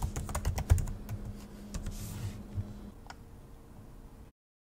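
Password keys clatter on a computer keyboard in quick, close taps for a few seconds, easing into a softer tick before stopping.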